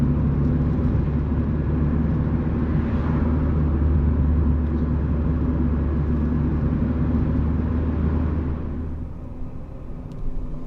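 Porsche GT3 RS passing on a street, a steady loud engine rumble and whir that swells and then fades as the car moves away.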